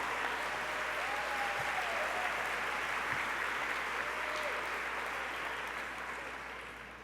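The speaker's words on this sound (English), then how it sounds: "Round of applause." An audience at an annual meeting and awards event applauds steadily with dense clapping for several seconds, then slowly fades toward the end.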